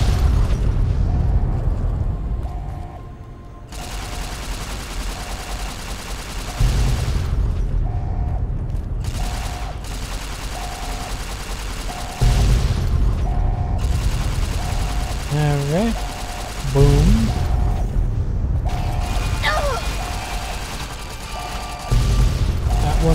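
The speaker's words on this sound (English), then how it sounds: "I'm gonna blow all these up" Repeated explosions from blowing things up in Fallout: New Vegas, several deep booming blasts with rumbling tails spaced through the passage, loud and close, with brief game sound effects between them.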